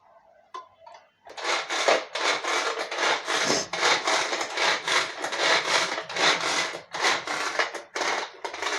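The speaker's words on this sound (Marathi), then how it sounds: "आता ती कापते टोमॅटो" A knife slices a tomato on a chopping board while wet bhel is prepared. The close, steady chopping strokes follow one another in a quick rhythm after a brief quiet start, with no talking.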